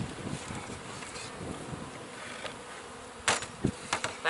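Bees hum around an open hive frame during queen cell work, a steady close buzz with a couple of louder thumps and handling knocks near the end.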